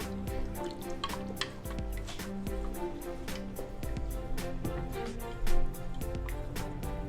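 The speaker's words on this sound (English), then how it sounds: "I'm gonna take this back to the stove behind me and let the polenta cook." Polenta cooks in a pot on a stove, giving a steady crackling sizzle with many small pops and plops throughout, moderately loud and close.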